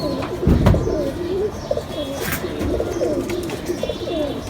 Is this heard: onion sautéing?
no